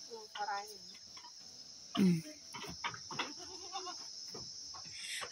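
A goat bleats once, fairly close, over a steady high insect buzz, with soft scattered rustling and faint voices around it.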